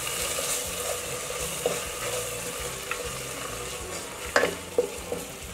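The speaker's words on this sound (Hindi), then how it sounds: "फ्लेम को हम थोड़ा हाई करेंगे और इसको अच्छे से भून लेंगे" Minced meat with crushed coriander, cumin and spices frying in a pan on high flame, a soft steady sizzle with occasional spoon scrapes and clicks, close and without talk.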